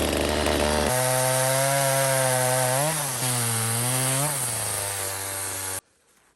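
A chainsaw roars steadily as it cuts wood outdoors in winter, its pitch dipping twice under load before the engine cuts out abruptly.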